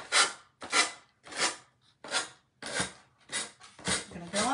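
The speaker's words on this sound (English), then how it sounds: "little sanding, hand sanding things" Hand sanding on wood: seven rough, raspy strokes in a steady rhythm, each a short scratchy burst with brief pauses between, close by.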